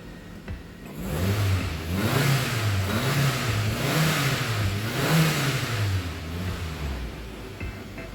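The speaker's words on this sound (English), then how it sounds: "Give it a good rev." A Toyota Camry engine, just fitted with a new fuel pump, revs up repeatedly from idle, rising and falling in several close, loud surges before settling back.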